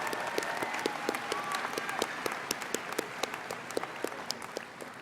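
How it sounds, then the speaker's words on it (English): Steady applause from a commencement audience honoring award recipients at a college spring ceremony, dense clapping from many hands sustained throughout at moderate distance, with no voices over it. "please applaud for our recipients"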